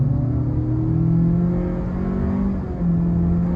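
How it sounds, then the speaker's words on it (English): A Honda CR-V EX-L AWD with a CVT in sport mode accelerates at wide open throttle, its engine droning and rising steadily with simulated shift points, heard from inside the cabin without talking. "So here we go, wide open throttle."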